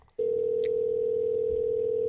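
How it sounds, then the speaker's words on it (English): A telephone in a video game rings with a steady electronic tone that sounds continuously after a brief quiet start, with a small click partway through. "I heard the phone ring a few times"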